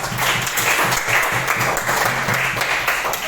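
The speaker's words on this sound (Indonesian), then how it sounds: "kita kasih tepuk tangan buat kelompok kedua" A classroom audience applauds a student group after its presentation, steady dense clapping throughout, close and fairly loud.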